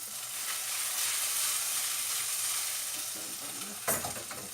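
Yogurt soup ingredients being mixed in a pot, a continuous soft hissing swish of stirring, close and moderately quiet, ending with a brief clatter, no voices.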